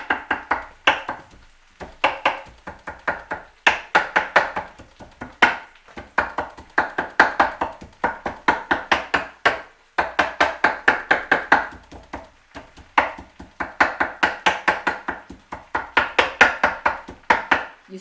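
A knife chops food on a board in quick rhythmic bursts of sharp taps, with short pauses between runs, close and steady without talk.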